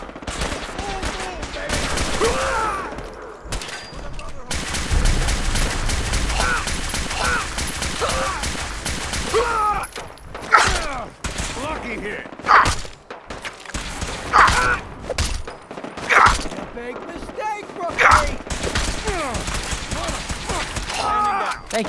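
Gunfire in Fallout 4, with bursts of rapid automatic fire and single heavy shots rattling off in clusters, loud and close, punctuated by thuds and brief gaps, while a voice occasionally talks underneath.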